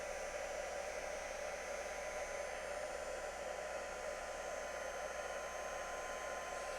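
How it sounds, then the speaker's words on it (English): A heat gun on a low setting blows steadily while heat embossing powder on a Valentine's craft sheet, a constant close whooshing hiss with no pauses. "We are heat embossing."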